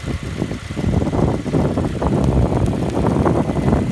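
A Honda Integra DC5 Type R engine idles with a rough, uneven rumble, its level swelling slightly partway through; close by, with no voices.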